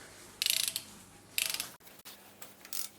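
Ratchet wrench clicking in short bursts as M6 bolts are tightened down on a 1.8 TSI engine cylinder head during a rebuild, three quick rattling runs with pauses between, close and fairly quiet.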